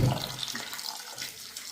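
Close splashing and running water as butter is rinsed by hand in a basin of water, brief and steady.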